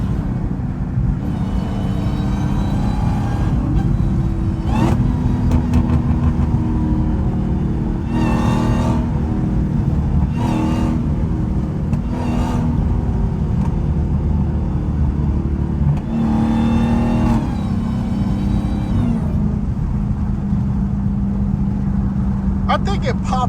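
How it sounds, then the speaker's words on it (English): A Dodge Hellcat with a catless exhaust cruises and revs, a loud continuous engine rumble with several surging rev bursts and pops from inside the car. "I think it pop a little, like with me being catless, it do pop a little louder."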